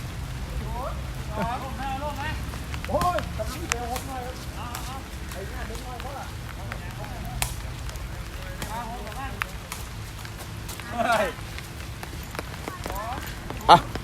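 Steady rain patters on surfaces at an outdoor sepak takraw match, a continuous broadband wash running throughout beneath an ongoing commentator's voice.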